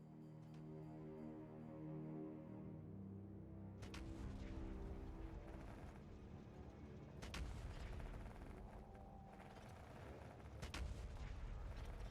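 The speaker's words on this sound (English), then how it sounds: "Firing fish out of a cannon might not have a good survival rate, clearly." Cannons fire fish in the game Factorio Nullius, several loud, sharp booming shots spaced a few seconds apart over a steady mechanical background.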